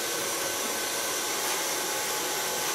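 A hair dryer blows steadily and loudly at close range, its even, dense rush of air continuing unbroken throughout with no pauses.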